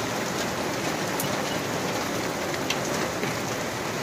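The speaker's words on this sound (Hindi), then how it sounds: "बहुत तेजी होने लगी है बरसात" Heavy unseasonal rain pouring down outdoors, a thick, unbroken roaring hiss that stays steady and loud from start to finish, with no one speaking.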